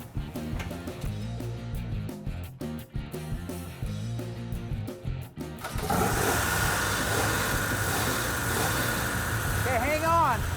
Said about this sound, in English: Just hop in, put it in neutral, I'll start it up.